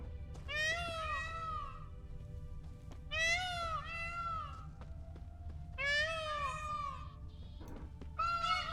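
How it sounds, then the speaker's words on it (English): Piercing peacock cries from The Witcher 3 ring out in three or four loud, evenly spaced bursts, each a rising and falling wail, above a constant low background hum. "There actually is a peacock sound."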